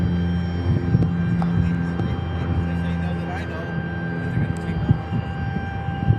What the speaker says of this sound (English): F-16s, I hear him.